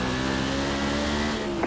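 A sprint car in the iRacing game on the South Boston oval, its engine droning loud and steady under hard acceleration, close up, alone without talk.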